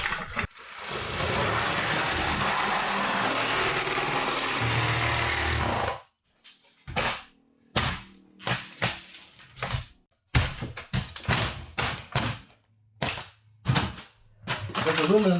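A power saw cuts steadily through an aluminium catamaran wall with aluminium square tubes inside during demolition, a long continuous grinding cut followed by short choppy bursts and clanks with pauses between them.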